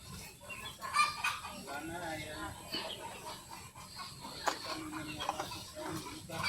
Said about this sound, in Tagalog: Kay mau kaon ang manok